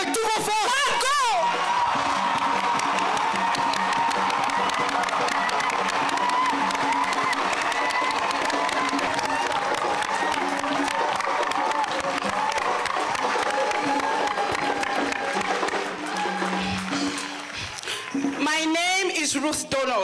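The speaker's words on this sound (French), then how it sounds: "I want you to clap with all your strength." A church congregation claps and cheers at full strength, a dense, sustained roar of applause and shouting with whoops rising above it, loud and continuous, and voices calling out over the crowd.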